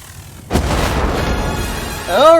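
A deck gun fires in the digital board game Flash Point: Fire Rescue, one sudden heavy boom followed by a long rumbling wash, with a brief tonal sound rising at the end.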